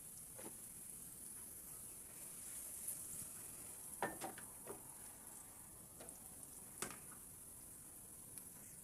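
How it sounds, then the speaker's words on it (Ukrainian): Half an onion with a pinch of sugar fries in a pan, a steady faint sizzle broken by a few louder crackles and stirring clicks, with no talking. "Вирішила я все ж таки підсмажити цибульку"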